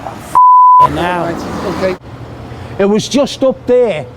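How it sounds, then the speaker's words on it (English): A mobile phone gives a single steady electronic beep outdoors on a Liverpool street, followed by people talking. "Sorry, that's my phone."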